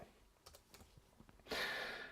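Keys are tapped on a computer keyboard in a photo-editing program's shortcut search, a handful of light separate clicks followed by a louder burst of brighter rustling noise near the end, with no talking.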